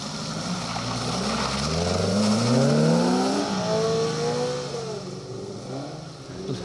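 A Lancia Fulvia and a Triumph TR7 V8, historic rally cars on a forest stage at Weston Park, roar past in turn, engines rising in pitch as they approach and then falling away into the distance.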